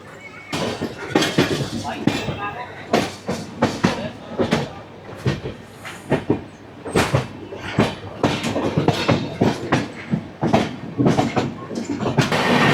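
Humsafar Express sleeper class train running on rails from Amritsar to Jaynagar, a steady rumble with rapid rhythmic clickety-clack of wheels over joints, loud and close, with a voice talking over it.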